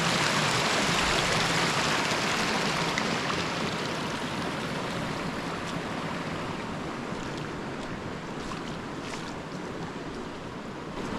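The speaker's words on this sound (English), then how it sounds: "we got the current from the rapids going along the rocks" River rapids rushing over rocks on the Petawawa in Algonquin, a dense and steady nearby roar of flowing water that continues unbroken throughout.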